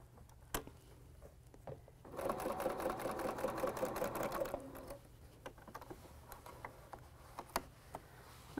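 A sewing machine stitches a quilted table runner in one steady, fast-ticking run of about three seconds. Scattered clicks and handling taps come before and after, and the room is otherwise quiet.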